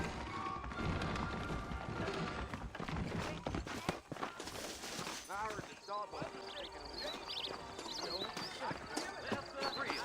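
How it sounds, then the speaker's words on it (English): Horses clip-clopping in the Western video game Red Dead Redemption, heard as rhythmic hoofbeats and an occasional whinny, mixed with game music and character voices speaking over them. "I got the horses saddled up and ready out front."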